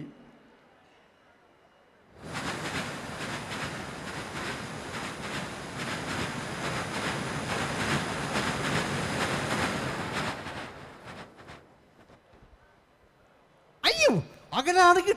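A man imitates a train crossing a bridge with his voice, a sustained rumbling, rushing chug lasting about eight seconds, followed by a brief pause and then a few short bursts of speech.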